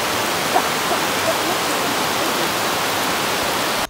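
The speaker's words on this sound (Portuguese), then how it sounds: "Tá chovendo muito." Heavy rain pouring down steadily during a thunderstorm at Peruaçu Caves National Park, a dense, continuous hiss of downpour close by that fills the whole stretch, with no talking over it.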